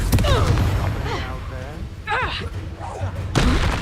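In the Hogwarts Legacy video game, Confringo fire spells go off as a rapid series of booming blasts, with a heavy burst at the end and faint game voices mixed in between.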